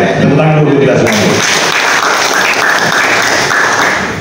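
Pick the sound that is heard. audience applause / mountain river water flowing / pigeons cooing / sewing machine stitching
audience applause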